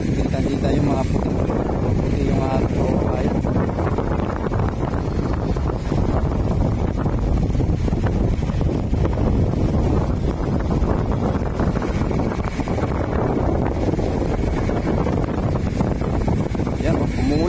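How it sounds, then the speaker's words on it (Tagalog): Strong typhoon wind buffets the open shoreline of Manila Bay in the rain, a constant loud roar and rumble against the microphone with waves behind it, while someone talks throughout. "Malakas yung hangin"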